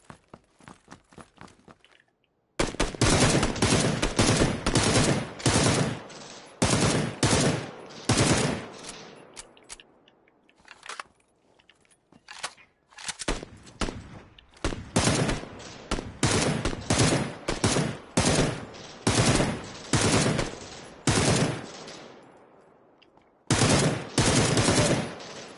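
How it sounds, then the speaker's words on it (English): Rapid bursts of automatic gunfire in the video game PUBG crack repeatedly, loud and close, in uneven volleys separated by short pauses over nearly half a minute. "it sounds like there's more gunfire"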